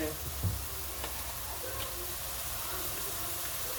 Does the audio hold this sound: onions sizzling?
yes